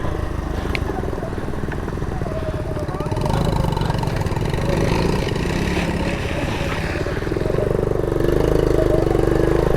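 A vintage Honda ATC70 off-road three-wheeler runs along a leaf-covered trail, its small engine buzzing steadily up close with throttle swells and light clatter, rising slightly in pitch and load toward the end.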